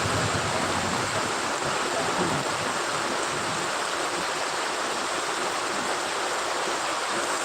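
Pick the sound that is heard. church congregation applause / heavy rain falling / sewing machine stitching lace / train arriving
heavy rain falling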